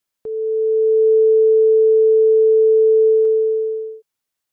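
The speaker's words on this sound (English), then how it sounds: "A440 is the sound that an orchestra tunes to." A single pure A440 reference tone sounds steadily for about four seconds, then stops cleanly.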